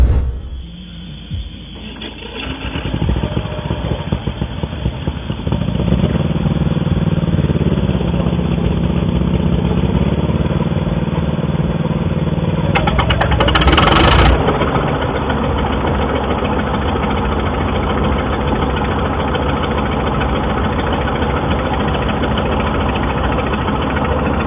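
A vintage Soviet S-100 crawler tractor with a massive steel cab cranks and its heavy engine catches, then settles into a loud, steady, low rumbling idle that runs close and continuous for over twenty seconds.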